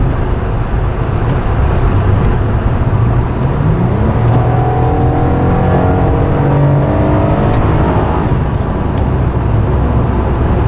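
A 2006 Acura TL V6 engine accelerating hard on a test drive, a loud, steady interior roar with rising engine tones and road noise throughout.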